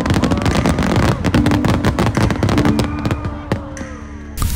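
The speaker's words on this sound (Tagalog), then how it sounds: "Una na dyan ang Fireworks Festival Competition, kung saan nagpapagandahan ng mga fireworks ang ilang mga kalahok" Fireworks bursting at a summer fireworks competition festival in Japan, a dense rapid barrage of loud cracks and booms overlapping continuously, with whistling rising shells and a sharp final burst.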